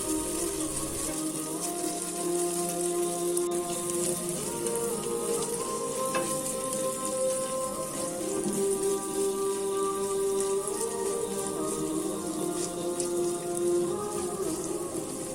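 Garlic paste and spring onion stems frying in a pan, a dense, continuous close sizzle with fine crackling throughout, no voices, with faint tonal background sounds above it.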